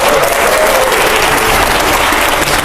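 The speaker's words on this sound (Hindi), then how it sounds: "जोरदार तालियां पहले" Studio audience breaks into loud, sustained applause with cheering mixed in, a dense steady wash of clapping that holds evenly throughout, recorded at a televised political debate show.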